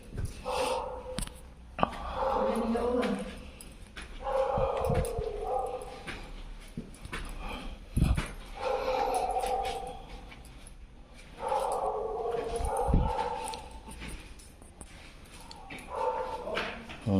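A dog barks and whimpers in bursts against steady background noise, a few sharp thumps between the calls.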